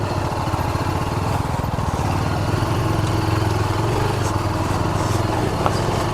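A motorcycle engine labouring on a rough, rain-soaked road, a loud continuous drone with a steady rumble, no voices.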